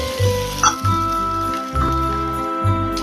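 Water goes into a pan of frying rui fish, and the pan sizzles with a steady hiss under pulsing low tones and a faint metallic tinkle.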